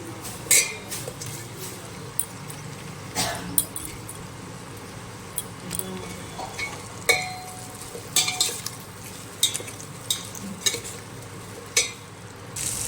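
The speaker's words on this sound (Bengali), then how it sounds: "এবার আমি পেঁয়াজটা দিয়ে দেবো" Onions fry in a pan with already-fried potatoes for a pointed gourd curry, a soft continuous sizzle broken by intermittent scraping and clinking of a spoon stirring against the pan.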